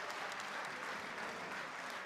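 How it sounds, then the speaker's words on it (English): Faint, steady applause from a boxing crowd after a fight, a soft even wash of clapping with no voices standing out. "you hear the applause"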